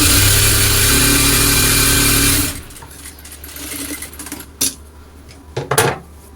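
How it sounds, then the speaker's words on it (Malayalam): A sewing machine runs loud and fast for about two and a half seconds, stitching a double seam to join pieces of leftover fabric scraps, then stops, leaving soft handling clatter. "ആദ്യം ഇതൊന്ന് ജോയിൻ്റ് ഇട്ട് കൊടുക്കാം ഡബിൾ സ്റ്റിച്ച് കൊടുത്ത് എടുക്കുന്നുണ്ട്"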